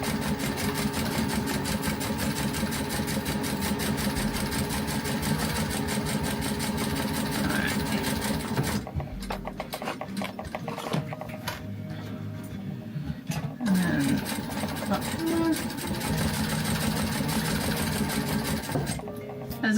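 A sewing machine stitches sticky vinyl for a custom blue badge cover and wheelchair caddy, its rapid mechanical whirr running loud and continuous, with a short pause in the middle before stitching resumes.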